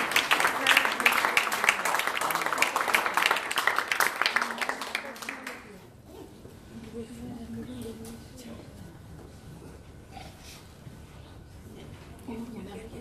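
A concert audience claps loudly for about six seconds, welcoming a soloist to perform; the applause then stops and a voice speaks quietly.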